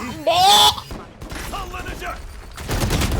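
Bursts of gunfire in a first-person shooter game, a loud volley early on followed by scattered shots and game noise, with someone talking and laughing over the action.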